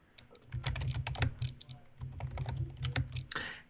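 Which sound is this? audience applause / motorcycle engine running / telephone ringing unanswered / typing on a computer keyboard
typing on a computer keyboard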